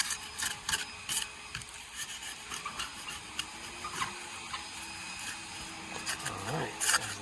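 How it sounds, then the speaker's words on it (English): Razor scraper rasping residue off dingy wavy window glass before glazing into a wood sash, a close, steady run of short scratchy strokes with occasional louder scrapes. "Go through and scrape all that residue"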